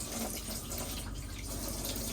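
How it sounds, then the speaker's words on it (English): Hot water runs steadily from the hand basin tap in a Swift Bolero 630EW motorhome washroom, a continuous close splashing stream into the sink with no talking. "hot water is coming through on this tap as well"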